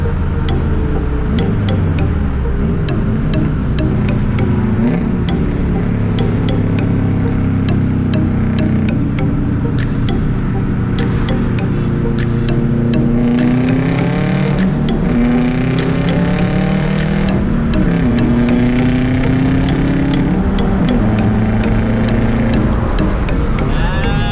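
A Subaru races a Mitsubishi Evo X, with loud, continuous engine drone and wind-like roar that rises and falls in pitch as the cars accelerate and shift, with occasional clicks and knocks throughout.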